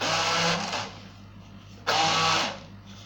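A blender grinds sesame seeds into tahini paste in two loud, steady whirring bursts separated by a brief quieter lull, with no oil added yet.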